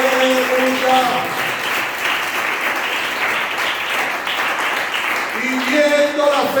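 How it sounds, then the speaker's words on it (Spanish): A church congregation gives loud, sustained applause during a sermon, with dense clapping throughout and voices shouting over it at the start and end. "Den un aplauso fuerte a nuestro Dios."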